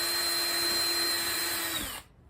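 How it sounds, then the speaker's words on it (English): A power drill whines steadily as it bores holes through plywood boat sides for stitch-and-glue construction, one continuous close run that winds down and stops near the end. "right now we're drilling holes for the stitch and glue"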